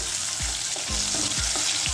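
Onion sizzles steadily in hot oil with cumin seeds, a tempering for sour raw mango dal, with a dense, loud crackle throughout and a spoon stirring at regular soft strokes.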